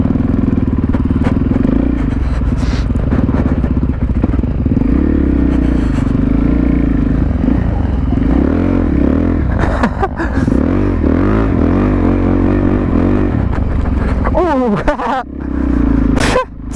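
A Suzuki DRZ supermoto motorcycle rides through snow, its engine loud and close with a constant rumbling drone, rising and falling revs, and brief scraping and clattering near the end.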